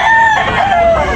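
A rooster for sale lets out a brief, loud crow close by, lasting just over a second and heard alone.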